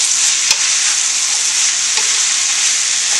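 A pan of vegetable korma curry with potatoes, spiced with ground red pepper, sizzles loudly and steadily up close, broken by a couple of sharp scraping stirs.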